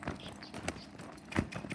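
Hooves of a gaited bay Percheron/Tennessee Walking Horse gelding clip-clop in a quick, even rhythm at moderate distance, with faint background noise.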